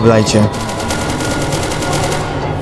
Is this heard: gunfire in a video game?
yes